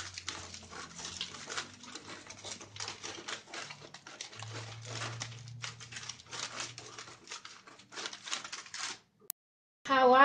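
Crinkly, crackling aluminum foil being scrunched and handled continuously for several seconds, close up, with a brief pause near the end.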